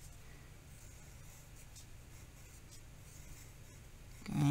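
A pen writes a handwritten letter on paper, giving a steady, faint scratching that runs unbroken through a quiet room, with a soft bump at the very end.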